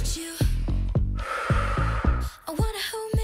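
Heavy, rhythmic breathing during a squat exercise, with a series of short forceful exhales and snorts spaced about a quarter second apart, and a longer sharp gasp midway, close to the microphone.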